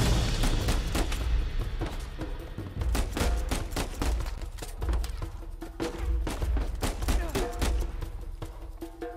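Gunfire in the video game Uncharted 4: rapid bursts of sharp shots, some in quick automatic runs, others single, loud and close throughout with booming low thumps between them.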